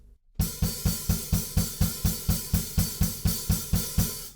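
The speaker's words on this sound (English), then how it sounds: "The first time, I think it's on the open hi-hats with the kick drums playing 8th notes as well." A loud, continuous wash of open hi-hats rides over rapid, evenly spaced kick drum thumps in a driving eighth-note pulse.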